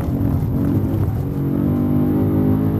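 Car accelerating hard on the Nordschleife circuit, a loud close engine note rising steadily in pitch over a few seconds as it revs out, heard from inside with no talk.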